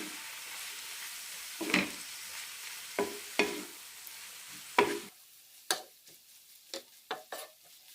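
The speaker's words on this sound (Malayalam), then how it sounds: "ഇനി ഇതിലേക്ക് നൂഡിൽസ് ഇടാം. നന്നായി മിക്സ് ചെയ്യാം." Wheat noodles are tossed and mixed with cooked vegetables in a pan, giving quiet, intermittent scraping knocks spaced a second or so apart over a faint sizzle.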